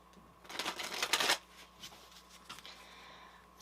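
Tarot cards shuffled close up, a dense riffling burst followed by softer scattered slides and taps as cards are drawn from the deck, with no talking.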